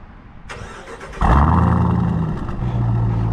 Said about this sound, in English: So guys, let's start up the Trackhawk here.